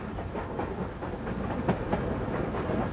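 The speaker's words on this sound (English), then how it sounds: "we sit back to enjoy the scenery as the train rolls along the seashore" A train rolls along level track on a main line following the seashore, a steady continuous rumble with faint rhythmic clicks from the wheels, close and even throughout.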